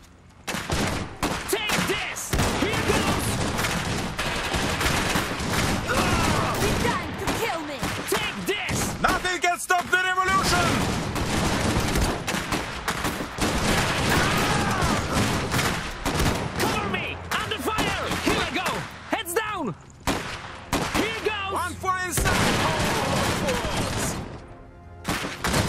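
Rapid bursts and volleys of gunfire crackle through a battle in the Iron Harvest strategy game, dense and continuous for most of the stretch, with shouted voices mixed in over the shooting.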